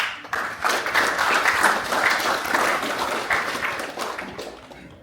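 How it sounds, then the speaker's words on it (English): An audience at an orientation welcome for a building construction program gives a round of applause, clapping swelling in quickly, holding steady, then tapering off toward the end. "Can you give a round of applause,"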